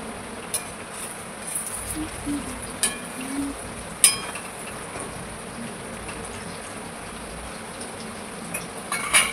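Oil heats in a pan for coriander vadi in a home kitchen, giving a faint, steady sizzle with a few sharp metal clinks of a utensil scattered through, and no talking.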